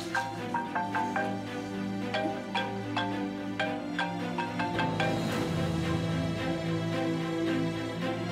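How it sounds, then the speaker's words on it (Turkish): A melodic phone ringtone plays continuously, a bright chiming pattern of repeated notes over a steady backing, close and clear with no talking. "Çok güzel bir telefon çalıyor."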